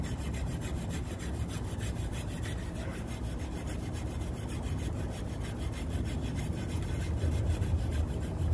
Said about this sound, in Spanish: le vamos a pasar un poco de cepillo de alambre